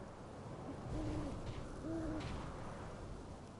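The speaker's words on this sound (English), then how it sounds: "Can you hear that dratted owl?" An owl hooting in the game Life is Strange: Double Exposure, two soft hoots a second apart, faint and distant over a quiet night ambience without any voices.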